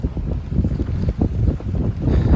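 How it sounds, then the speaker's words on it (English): Strong wind on the Appalachian Trail buffets the microphone in low, gusty rumbles that rise and fall continuously, with no other clear sounds. "oh it's windy"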